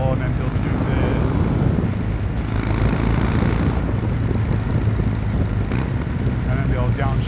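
A Kawasaki W800 motorcycle running at wide open throttle gives a loud, steady engine roar that fills the whole stretch without a break, with wind rush mixed in close to the microphone.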